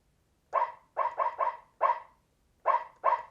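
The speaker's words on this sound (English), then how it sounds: "It sounds like a barking dog." A barking dog voice from a Glarry GPP-101 88-key portable digital keyboard plays as seven short synthesized barks in uneven bursts, a quick run of three in the middle, clear and alone with silence between.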